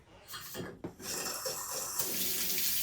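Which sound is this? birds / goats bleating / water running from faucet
water running from faucet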